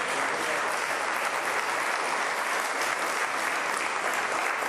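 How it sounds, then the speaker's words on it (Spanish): A church congregation applauds in a dense, steady wash of clapping that stays at an even level throughout without any voices standing out. "Den un aplauso al Señor."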